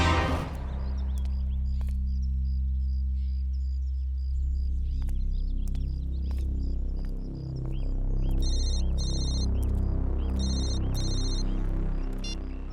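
A phone ringtone trills in two clusters of rapid, repeated electronic bursts late in the stretch, layered over a low droning music score that runs throughout.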